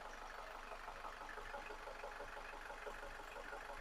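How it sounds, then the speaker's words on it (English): A 2012 VW Tiguan engine with low oil pressure and a bad engine idles with a steady, diesel-like clatter and knock, heard quietly and alone without talk. "this thing sounds like a diesel when it runs"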